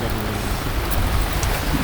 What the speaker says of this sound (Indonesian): mendadak hujan